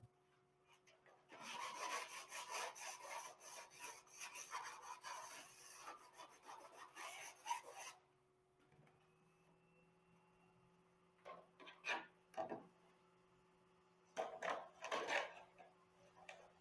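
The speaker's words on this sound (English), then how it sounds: "Sand and trim as necessary." Sanding and trimming the fibreglass skid pants of a Talon A600 model aircraft: quiet, close rasping and rubbing strokes in a dense burst, then sparse short scrapes against a faint steady hum, with no speech.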